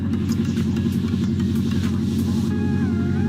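Japanese kei car driving, a small engine's steady mid-pitched hum with rising revs toward the end, heard close from inside the cabin with faint clicks.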